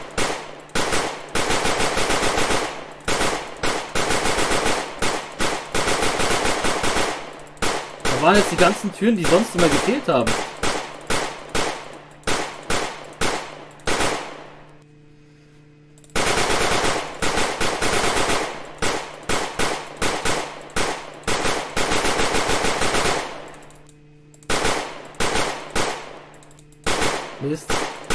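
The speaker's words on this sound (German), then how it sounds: "jedes Mal, wenn ein Schuss ist, habe ich eigentlich einen Zombie angeschossen" Rapid bursts of gunfire from the zombie shooting game Zombiehaus crack in dense, repeated volleys with brief pauses between them, loud and close, while someone talks over the shooting.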